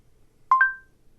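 A quick two-note electronic voice assistant beep, a lower tone followed right away by a higher one, ringing briefly in an otherwise quiet room.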